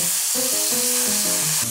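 Cream poured into a pan of frying mushroom base for a mushroom cream filling for crepes, giving a steady close sizzle with no talking.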